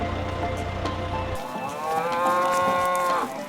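A cow gives a single loud, drawn-out moo close by, rising and wavering before fading, with a low hum underneath at the start and no talk.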